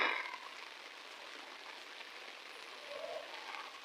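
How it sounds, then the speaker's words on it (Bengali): Rain falls on the Kurigram–Bhurungamari highway as a faint, steady hiss of drops on the road surface, with a slight swell near the end and no talking. "আমি বৃষ্টির মধ্যেই রওনা দিলাম"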